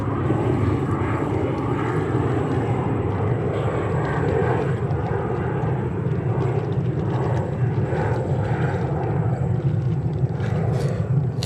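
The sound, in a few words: Delta Connection Embraer 175 jet taking off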